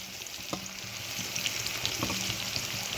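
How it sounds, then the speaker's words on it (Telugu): Green chillies fry in oil in a pan, giving a steady close sizzle with occasional small pops and stirring scrapes, alone without talk. "చూసారు కదా, వేగిపోతున్నాయి."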